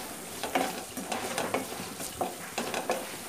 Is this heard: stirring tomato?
yes